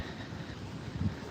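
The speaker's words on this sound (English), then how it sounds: "This wind is not wanted" Winter wind in New York City buffets the microphone, a steady low rumbling roar with a brief stronger gust near the end.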